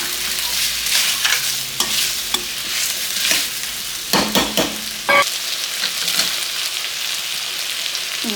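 Potatoes frying for pulao in a single pot, a loud steady crackling sizzle with frequent stirring scrapes and knocks against the metal, close up and without talk.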